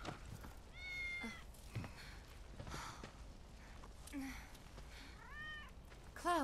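A cat meows in the Final Fantasy VII Rebirth video game, with several faint, rising and falling mews spread over a steady game soundscape with low rumble.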